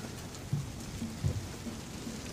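Steady rain falls on a flooded backyard, a soft continuous hiss with a few faint low thumps, quiet and even throughout with no voices.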